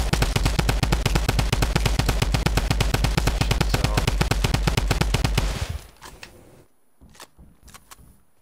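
Rapid automatic gunfire in the Fortnite video game rattles loud and continuous for several seconds, then stops and gives way to a few scattered sharp shots over quieter background.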